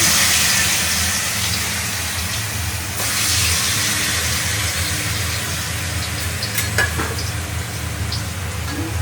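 Fish frying in a pan of hot oil for a Rajasthani gatte dish, a steady dense sizzle and hiss running throughout with a few brief clinks, close and loud.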